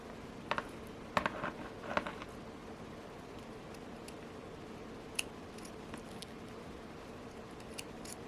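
Beading thread for a handmade bracelet is snipped with scissors, giving a few faint, brief clicks and snips near the start over quiet room noise.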